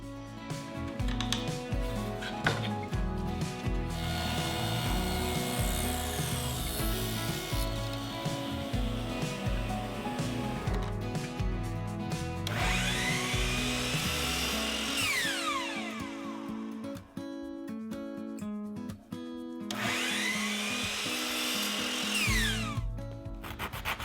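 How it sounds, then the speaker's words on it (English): A table saw cuts thin walnut splines in a long, continuous run, with a steady whining hum and repeated rising and falling cutting passes that sound loud and near. "Now I'll use the table saw to cut the walnut splines"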